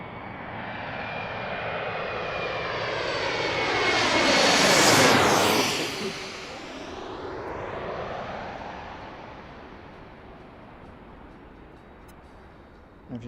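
An airliner takes off from runway 19 at Washington's Reagan National Airport, its jet roar swelling to a loud close peak as it passes, then fading steadily into the distance.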